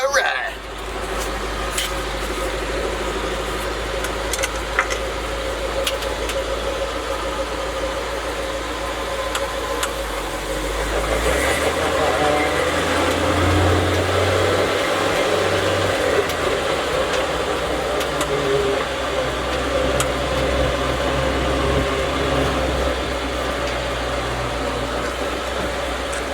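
A 1967 Dodge D200 Sweptline pickup engine cranks and catches, then runs with a steady low rumble that grows louder about a third of the way in, while someone talks over it.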